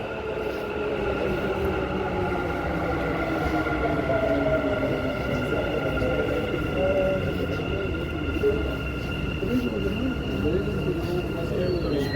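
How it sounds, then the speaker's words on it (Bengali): A Dubai metro train pulls into the platform with a steady rumble and a rising and falling whine, heard from the platform at moderate level with a voice talking over it. "মেট্রো আমার সাইডেরটা চলে আসছে।"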